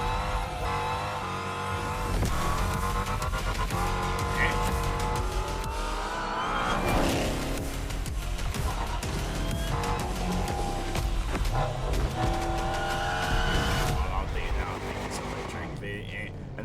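An electric Jeep in the video game The Crew Motorfest drives with a smooth electric whine, tires squealing and skidding at times, while a person talks over it throughout.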